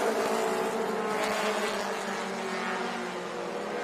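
Mini stock race cars run a feature at Crisp Motorsports Park, a dense, loud wall of engine roar from several cars close together, sustained throughout with slight fluctuations as they jockey through a turn.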